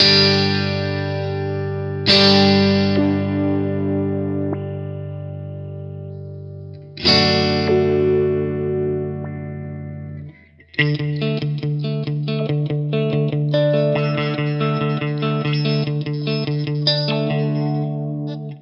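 Sustained electric guitar chords pass through an envelope filter pedal, then turn into choppy, rhythmically gated step-filter pulses at a steady pace; no voices.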